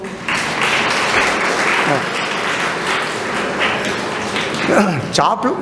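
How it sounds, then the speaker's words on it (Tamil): Conference audience applause, a steady wash of many hands clapping at moderate volume, with voices speaking over it in the later part. "ஒரு கரகோஷம்"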